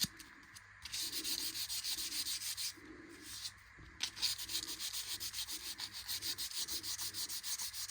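Finishing paper is rubbed back and forth along a wooden bow for a bowed psaltery, giving rhythmic rasping strokes, close and fairly quiet, with a short pause between the opening passes and then a steadier run of quick strokes.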